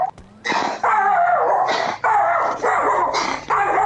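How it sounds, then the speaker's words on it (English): A dog barks loudly and close in a rapid series of sharp, repeated barks with short gaps between them, the first bark preceded by a brief whine. "Now he's barking at his dad."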